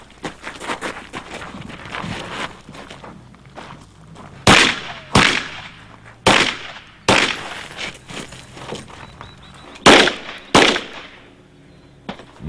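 Pistol shots at an IDPA shooting match, likely Glock, Springfield or Colt handguns: loud, sharp reports in an uneven string, with a few closely spaced shots among lower range noise and no talk.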